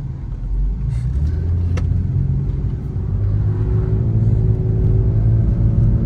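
A 2000 Porsche 911 Millennium Edition drives along a road near Lime Rock, its engine a steady low rumble heard from inside the car, rising slightly as it accelerates.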